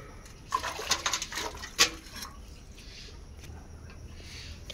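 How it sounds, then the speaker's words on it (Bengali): Water splashing and dripping as a cow's udder is washed by hand before milking, a few quiet irregular splashes and trickles early on, then a faint steady wash of background noise. "মঙ্গলির মা এখন মা জল দিয়ে ধুয়ে নিচ্ছে"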